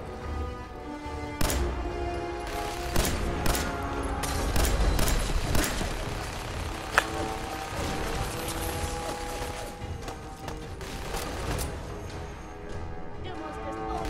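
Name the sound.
grenades and gunfire in the video game Fallout 4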